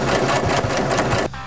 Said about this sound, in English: Now I'm going to go to the sewing machine.